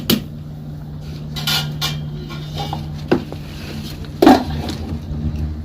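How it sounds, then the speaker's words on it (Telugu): A lid is set on a pot of egg dum biryani, giving a few sharp metallic clanks and knocks spread across several seconds, the loudest one near the end, over a low background hum. "మూత పెట్టేస్తా పెట్టేస్తా"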